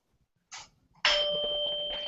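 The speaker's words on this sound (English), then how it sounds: "Is that the doorbell?" Doorbell chiming indoors: a short first tone, then a louder sustained ring that lingers to the end, clear and close with no talk over it.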